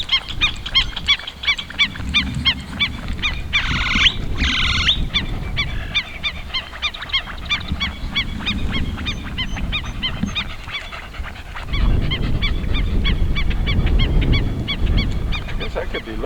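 Geese honk at a pond, with repeated calls ringing out among other wild birds, moderately near, and louder bursts of honking come toward the end.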